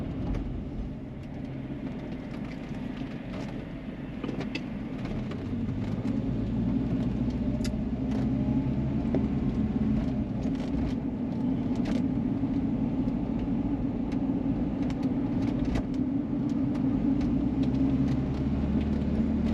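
A 30-year-old Volvo 240 wagon loaded with about 1000 pounds of gravel drives through a roundabout, heard from inside as a steady low engine and road rumble with light rattles.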